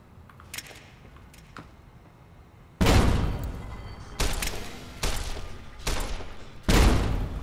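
Frag grenade explosions in Fallout: New Vegas: after a quiet stretch, four loud broadband blasts go off in quick succession, each with a sharp onset and decaying rumble, close and prominent with no talk.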